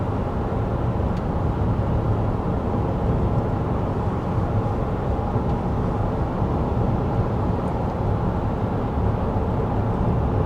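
Steady cabin road noise inside a 2024 GMC Acadia AT4 SUV cruising at 55 mph with the fan on low, a constant low rumble and broadband hiss, loud and unchanging throughout, with no one speaking.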